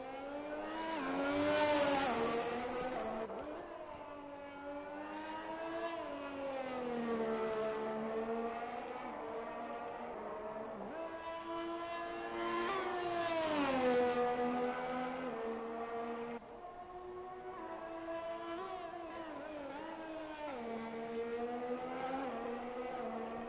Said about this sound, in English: So first driver out of the pits, it's a Ferrari and it shakes